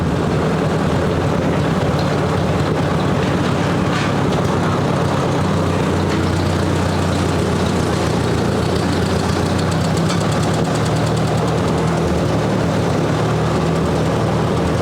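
A 1958 Ford 851 tractor engine running under load while lifting a pallet of sand, a loud, steady, close diesel-like rumble with a throbbing knock, continuous and unbroken.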